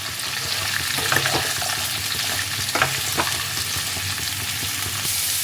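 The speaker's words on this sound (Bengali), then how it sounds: "এবার সবগুলোকে ভালোভাবে মিশিয়ে এগুলোকে একটা হালকাভাবে ফ্রাই" Salted mixed vegetables for navratan korma fry lightly in a pan, giving a continuous close sizzle with intermittent scraping strokes of stirring throughout; no talking.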